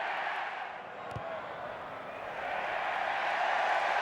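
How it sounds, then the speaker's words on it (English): A stadium crowd at a Rugby World Cup 2003 match between England and Wales, a broad sustained roar of many voices that swells louder toward the end, with a single dull thud partway through. "The crowd response."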